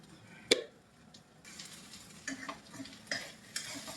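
Okra being fried in a pan and stirred with a spatula, a soft steady sizzle broken by a sharp scrape and several lighter stirring clacks, close by.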